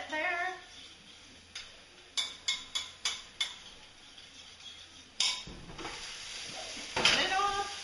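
Garlic and chopped basil being stirred in a pan, heard as a faint, low sizzle punctuated by a series of quick utensil taps and scrapes, a few clustered together near the middle and one louder clatter near the end.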